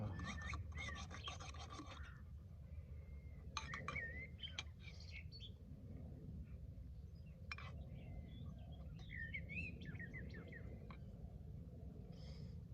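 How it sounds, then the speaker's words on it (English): Faint, scattered bird chirps and short warbling calls drift in at intervals over a quiet countryside campsite, far off and soft above a low, steady background rumble. "Some birds flying around, some sparrowhawk, I think it is."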